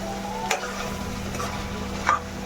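Chicken pieces coated in masala stirred in a pan for a spicy chicken gravy, with a steady low frying hiss and a couple of soft spatula scrapes standing out, no talking.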